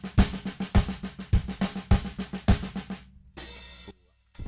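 Drum kit playing paradiddle-based patterns from a chart, steady sticking on drums and cymbals with regular accents, close and moderately loud, breaking off into a brief cymbal wash and silence.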